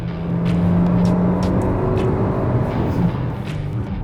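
A turbo petrol Kia Seltos engine revs hard in sport mode and builds speed, a steady loud drone with a rising whine and a slight dip near the end.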